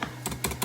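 A few quick keystrokes on a computer keyboard, close and crisp, roughly four clicks in under a second with no talk, while typing text into a web form.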